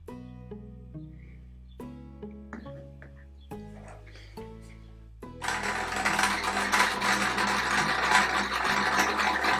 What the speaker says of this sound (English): I'm then going to sew 2 halves together and then the 2 halves together to make the whole.